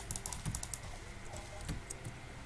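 A computer keyboard typed on while playing Spiral Knights, with quiet scattered key clicks in small bursts over a low background hum and no talk.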